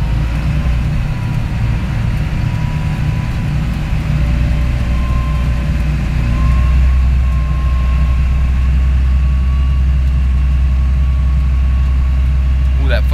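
A combine harvester's engine drones loudly and steadily near the top of a hill, its deep rumble swelling as it speeds back up partway through, with no breaks in the sound.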